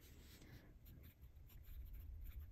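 A TWSBI Diamond 580 fountain pen in white rose gold with a medium nib, inked with shimmer ink, writes on paper: a faint, continuous soft scratching of the nib gliding across the page.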